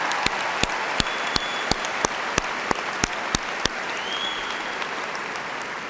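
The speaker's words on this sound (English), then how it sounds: "I think she deserves another huge round of applause." A commencement audience applauds the national anthem singer at a university graduation ceremony, a steady, dense wash of clapping filling the hall, with a few sharp, evenly spaced louder claps standing out near the front.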